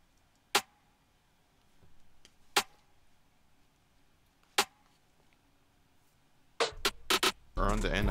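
Sharp, dry rim clicks spaced about two seconds apart, then a quick burst of rapid hits and a dense noisy stretch at the end.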